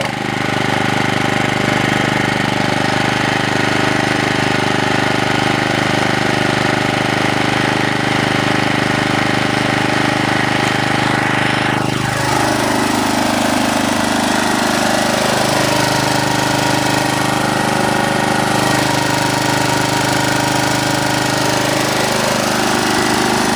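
A spring lawn mower cranks and fires up, its loud engine running steadily and roughly throughout, with a pitch shift partway through as the throttle changes.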